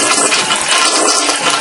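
Icera or American Standard toilet flushing: a loud, broadband rush and swirl of water that runs steadily and close-up from start to finish, with no talking.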